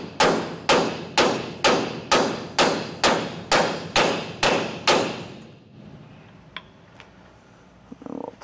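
A hammer drives a collar down a U-bolt against the shackle hangers of a round-axle trailer, ten evenly spaced loud metallic blows about half a second apart, followed by quiet with a few faint clinks.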